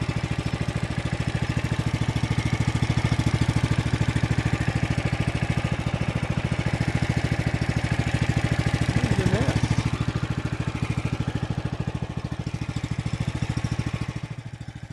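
A Norwood sawmill's gas engine runs at a steady, even idle close by, with a constant rhythmic chug and a brief mechanical rattle near the end.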